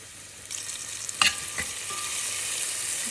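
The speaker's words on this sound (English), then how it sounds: "I've got my garlic, avocado oil, salt and pepper just cooking down" Garlic cooking in avocado oil with salt and pepper in a pan, giving a steady close sizzle with a few scraping stirs and clinks, no voices.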